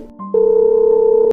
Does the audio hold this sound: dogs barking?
no